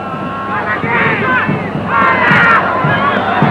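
A Chilean football crowd of around 20,000 in a stadium at a 1991 Copa América match against Peru, a broad roar of massed voices, with a commentator talking over the noise.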